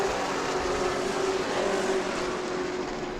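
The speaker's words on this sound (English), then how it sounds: "He's really gunning the throttle into 2 and 4." A race car at the New Smyrna World Series is driven hard into the corners, a sustained, fairly loud engine drone that holds steady and eases slightly toward the end, heard without talking.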